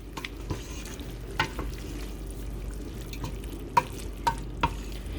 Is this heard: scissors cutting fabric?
no